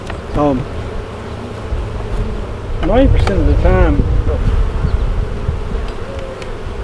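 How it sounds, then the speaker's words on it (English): Steady insect buzzing from a crowd of honey bees hums throughout, with people talking over it. "Knocking all bees in there."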